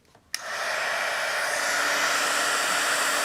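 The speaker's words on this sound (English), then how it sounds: "I'm just getting my heat tool kind of warmed up" A craft heat tool for embossing powder clicks on and blows a loud, steady airy whoosh close by, holding constant to the end.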